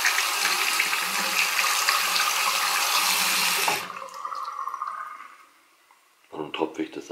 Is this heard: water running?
yes